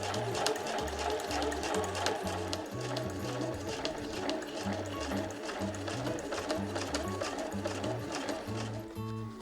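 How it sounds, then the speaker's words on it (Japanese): Close by, a sewing machine stitches steadily around the edge of a handmade pouch, its rapid mechanical chatter running without a break and joined by faint handling sounds. "今度はこの際をぐるっと一周縫いましょう。"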